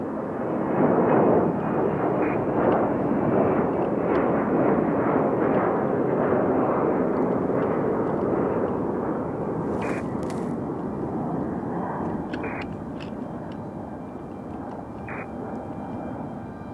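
Aeromexico jet airliner rolling and lifting off a runway at Raleigh-Durham International, a loud sustained roar of engines with rumbling broadband noise that stays strong and fades slightly toward the end.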